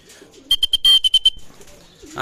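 A racing pigeon lands at the loft during a derby training race, a short burst of close wing flaps and clattering with a sharp whistle-like tone, then quiet.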